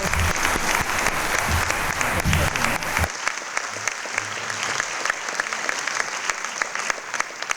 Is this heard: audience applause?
yes